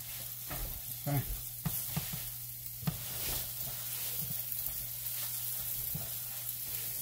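Garlic-topped bread frying in oil in a pan, a soft steady sizzle with intermittent scraping and tapping from a utensil, close but fairly quiet, no talking.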